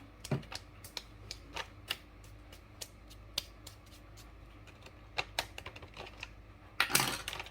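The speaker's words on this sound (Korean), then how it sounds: "그다음 지퍼로 잘 잠그고." A plastic zip bag is pressed shut along its zipper, a run of small crisp clicks and snaps spaced irregularly in a quiet room, ending in a denser crackling burst.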